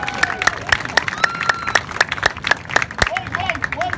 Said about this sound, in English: Normally people clap now,